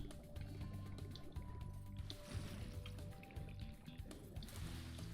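Spyro wades and splashes through water in the video game Spyro 3, with soft liquid sloshes and drips running steadily under a constant layer of game music.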